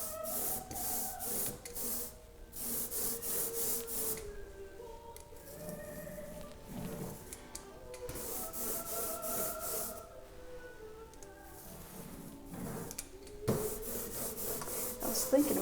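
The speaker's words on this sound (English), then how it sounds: "I'm going to roll these on now, and the ink is tacky. It sounds very tacky and nice." A roller spreads tacky water-washable ink for linoleum block printing, giving a sticky, crackling rasp in repeated back-and-forth passes at close range, with short pauses between strokes.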